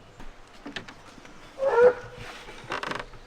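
A hunting dog lets out a short, thin whine amid a few faint creaks and shuffling noises, close by and fairly quiet.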